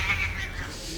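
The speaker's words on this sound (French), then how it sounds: "Ah c'était le chat ça?" A cat meows briefly under a steady low background hum, a single short call at moderate level.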